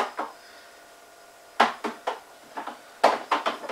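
A fermenter of Cooper's Australian Stout homebrew is stirred in sharp bursts of sloshing and scraping against the vessel, with quiet gaps between strokes.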